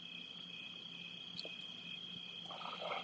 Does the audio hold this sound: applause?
no